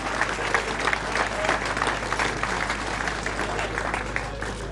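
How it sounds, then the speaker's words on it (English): Sustained applause from a crowd at a cycling race prize presentation in Ireland, steady clapping throughout, heard from a moderate distance. "Give him a big Irish round of applause."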